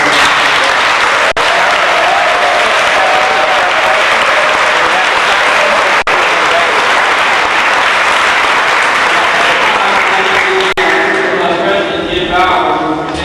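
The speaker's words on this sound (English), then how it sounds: "So I'd like everybody to give a round of applause." Sustained crowd applause fills a hall at a Janesville all-sports awards night, loud and steady for over thirteen seconds with a few sharp knocks, easing slightly near the end.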